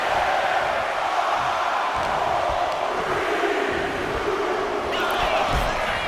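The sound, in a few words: crowd counting down in WWE 2K25 wrestling video game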